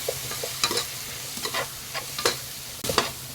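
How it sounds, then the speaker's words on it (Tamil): Chayote and vegetables for sambar sizzle in a hot pan with sambar powder while a utensil stirs and scrapes them in quick, irregular strokes, close up. "இப்போ இதையும் நல்லா வதக்கிடுங்க."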